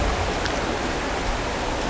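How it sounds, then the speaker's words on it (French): Rain in French Guiana starts up again as a dense, steady hiss that stays loud and constant, with no talking heard. "Là on a la pluie qui a repris"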